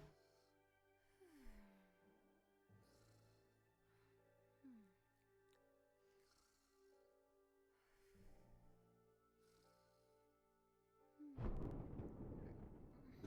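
Thunder effect in a French-language audio drama: a loud, broad rumbling crash arrives near the end after quieter stretches of music and sound, standing alone without speech.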